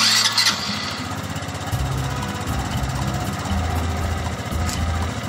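A Motorstar Legend 125i motorcycle engine idles during warm-up, a steady close low putter running continuously with no voices.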